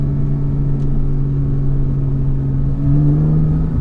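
A 2006 Porsche Cayman's six-cylinder engine revving on a twisty road, a loud sustained engine note that rises in pitch near the end, with no talk over it.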